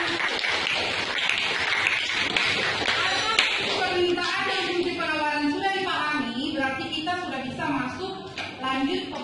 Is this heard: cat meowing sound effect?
no